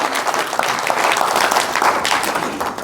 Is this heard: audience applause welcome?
yes